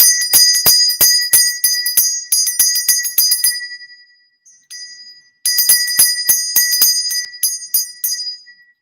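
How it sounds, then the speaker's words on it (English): Bright bells ring in rapid repeated peals, loud and clear, pausing briefly in the middle before another burst of ringing. "Wedding bells."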